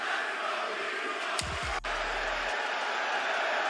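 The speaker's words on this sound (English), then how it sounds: "Chicago closed things out with Let's Go Beach Ball and a wave for good measure" A large Chicago wrestling crowd fills a WWE arena with steady, dense noise, chanting and cheering throughout, with a brief low thump partway through.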